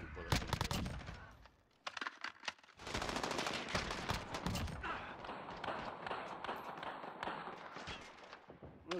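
Rapid bursts of gunfire in Call of Duty Modern Warfare search and destroy, loud and close, with sharp shots early on and sustained automatic fire through most of the stretch.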